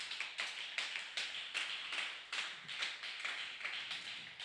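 A church congregation claps together in a steady, rhythmic beat, loud and close, the claps continuing evenly without any clear voices above them.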